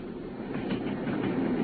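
A Kentish train rattling along the tracks, a steady muffled rumble with a clattering rhythm, heard from close by for a brief moment and growing slightly louder.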